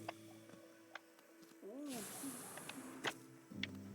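A snorting mushroom elephant creature from the Hollow Knight video game lets out a breathy, hissing snort midway, with a brief warbling cry and scattered clicks and thuds around it.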